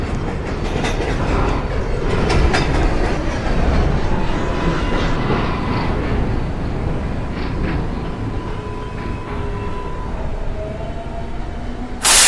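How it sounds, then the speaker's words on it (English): A New York subway J train rumbles steadily along the track with a continuous roar and faint rhythmic clatter, loud and close, ending in a sudden sharp burst. "This is a Brooklyn-bound J train."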